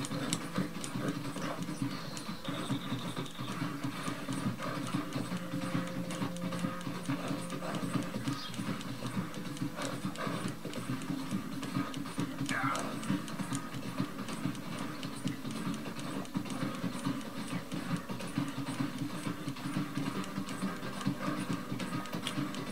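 Horse hooves clip-clop steadily in Red Dead Redemption 2 over a constant ambient game soundscape, moderately quiet and continuous with no talk.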